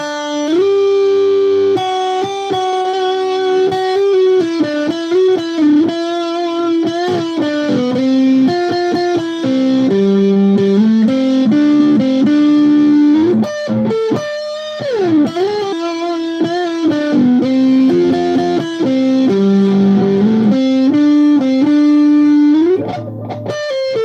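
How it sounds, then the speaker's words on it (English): A distorted electric guitar plays a slow, bending chord riff intro, sustained and loud, notes sliding and ringing on with no other sounds. "Play with the distortion."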